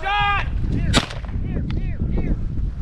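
Shotgun blast while upland quail hunting in Kansas: one loud sharp report near the middle, with birdsong and outdoor rustle around it.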